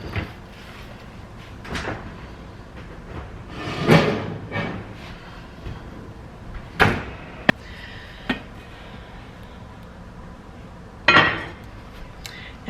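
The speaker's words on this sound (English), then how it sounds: "Okay, so now I'm gonna go ahead and get the Dutch oven out." A heavy Dutch oven is taken out in a home kitchen, with scattered knocks, clanks of metal and thuds of cupboard and cookware handling at a moderate distance and no talking.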